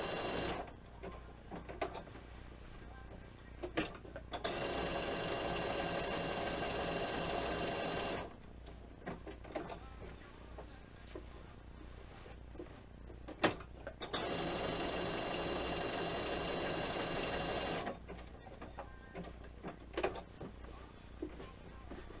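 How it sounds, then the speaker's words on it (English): Computerized sewing machine stitching in two long steady runs, each followed by a brief pause as it back stitches and automatically trims the thread, with small clicks and taps between the runs; close and moderately loud, no talking. "I just push that button and it back stitches and then cuts it for me"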